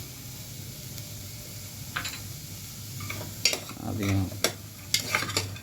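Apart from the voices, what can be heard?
stirring beans with vegetables in butter in a pan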